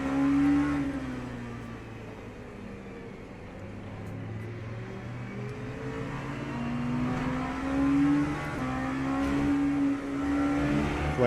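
LMP2 prototype race car in the sim racing game Le Mans Ultimate, a steady, droning engine note that rises and falls with revs, loudest near the end, with no talk over it.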